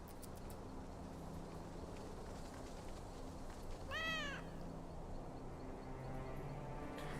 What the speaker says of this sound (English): Hearing 2 sets of meows now.